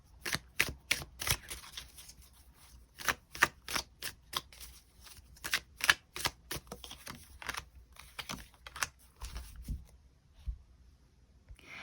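Tarot cards are shuffled and drawn by hand in quick, crisp bursts of riffling and flicking, with short pauses between them, fairly close and quiet, and no talking.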